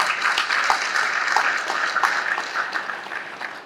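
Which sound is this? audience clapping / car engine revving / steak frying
audience clapping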